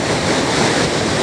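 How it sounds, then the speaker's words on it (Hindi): Purwa waterfall on the Tamas river roaring as a steady, dense wash of falling water, loud and close with no break. "तमस नदी यहाँ पे गिरती है।"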